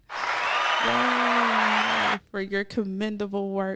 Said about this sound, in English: I want to give you a round of applause again.